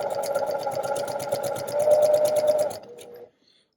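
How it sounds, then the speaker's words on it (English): A sewing machine stitches curved quilt pieces for a New York Beauty block in a steady, fast mechanical whir with rapid needle clatter, growing slightly louder before stopping abruptly near the end. "I don't like changing the pressure of my pressure foot in the middle of stitching"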